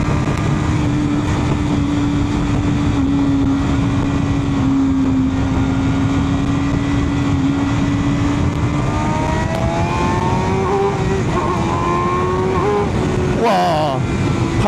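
A 200 hp MV Agusta motorcycle engine drones loudly and steadily, its pitch climbing under acceleration with stuttering power cuts near the end, while voices talk over it.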